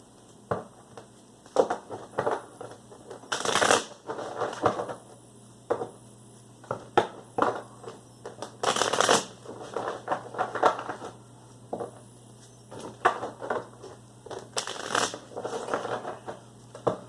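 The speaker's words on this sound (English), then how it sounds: "Three more shuffles" Close-up bursts of cards riffling and shuffling, separated by soft handling taps and pauses, repeated several times in quiet surroundings.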